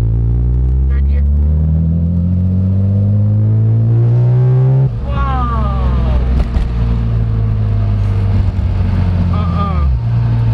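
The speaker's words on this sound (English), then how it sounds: "I can just keep in third gear and just accelerate." A 1998 BMW M Roadster E36/7 pulls hard in third gear, its engine note climbing loud and close. After a brief dip the rising rev sweep starts again, with a person speaking over it.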